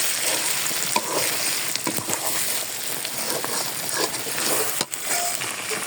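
Beef tripe fries in a pan with spice paste, green chillies and chilli powder, giving a dense, constant sizzle close by. Sharp clinks and scrapes of a utensil sound now and then.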